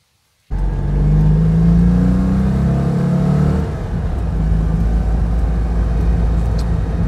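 Citroen 2CV with its 652 cc engine starting up abruptly and running, a close, loud rumble that revs briefly before settling into a steady drone.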